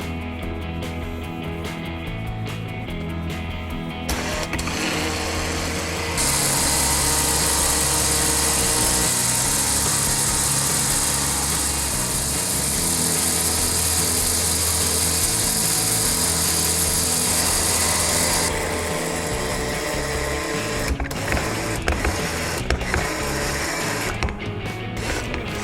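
A hand winch on a boat line stopper is wound up, giving a steady close mechanical ratcheting of pawl clicks that runs for about twenty seconds and then slows into irregular clicks.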